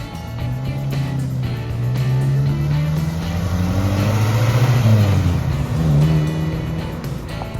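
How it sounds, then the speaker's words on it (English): A classic Ford Cortina with a 1200cc engine drives along, its engine droning steadily and swelling as it revs up and eases back, loud and close throughout. "1200cc engine in, which, to be fair, for a car like this, is a little bit underpowered."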